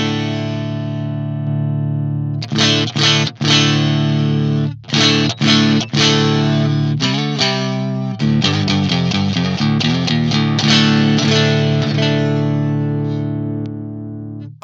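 Les Paul electric guitar with Fishman pickups in single coil mode, played through a tube amp input: sustained distorted chords and bursts of choppy muted strumming, loud and close, with no talking.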